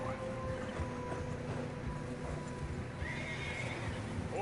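A tired horse trudges through fresh snow on a narrow trail in Red Dead Redemption 2, whinnying over a steady clip-clop of hooves amid a constant wind-like hiss, near and fairly loud.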